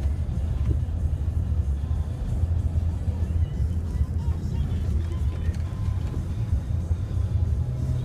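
A car driving through a blizzard on a slippery snowy road, with a steady low rumble of engine and tires and constant road noise throughout.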